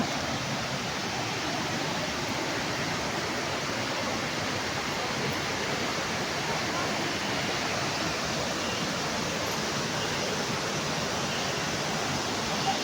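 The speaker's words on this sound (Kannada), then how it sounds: "ಇಲ್ಲಿಯೂ ಕೂಡ ನೀರು ಜಿರಿತಾ ಇದೆ ನೋಡಿ" Water trickling and splashing down rocks at Amate waterfall, a steady, even rushing hiss that continues without a break, with no voices.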